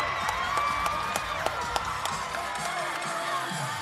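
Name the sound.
home crowd cheering at basketball playoff game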